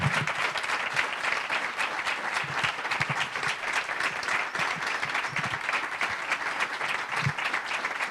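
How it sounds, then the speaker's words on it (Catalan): An audience claps at an outdoor candidacy presentation for a 2023 municipal election in Novelda, sustained even applause from a full square lasting throughout. "Demane, per favor, un aplaudiment per al treball de tots dos"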